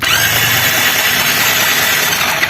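The self-starter cranks a Hero Splendor BS6 fuel-injected motorcycle that won't start, a loud, close, continuous whirring drone holding steady without the engine catching.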